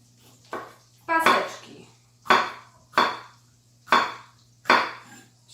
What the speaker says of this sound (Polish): Paprykę kroję